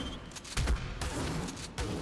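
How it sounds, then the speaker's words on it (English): Shotgun blasts in the ARK survival game during an X-Sabertooth Salmon hunt for Shadowmanes, heard as a few close, heavy booming shots with short gaps between them. "Oh yeah, I need to use a shotgun."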